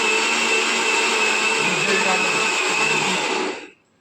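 A kitchen mixer grinder whirs loud and steady while blending chibbar chutney, a constant high motor whine that cuts off sharply near the end; no pitch steps through gears are evident.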